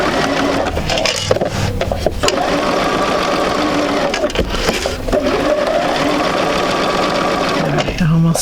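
A sewing machine stitches fabric in one continuous close, loud run with small shifts in speed. A voice talks briefly over it.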